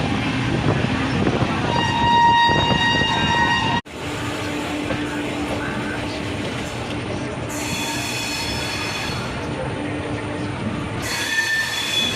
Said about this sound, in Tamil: ஸோ நம்ம ட்ரெயின் பார்த்தீங்கன்னா பேருக்கு ஏற்ற மாதிரி சூப்பர் ஃபாஸ்ட்டாக இருக்குது